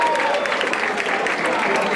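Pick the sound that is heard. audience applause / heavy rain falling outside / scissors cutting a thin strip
audience applause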